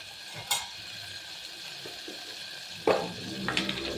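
Chicken gravy masala fries in a pan, a low steady sizzle broken by a few sharp scrapes and clinks of a spoon against the pan, close and without speech.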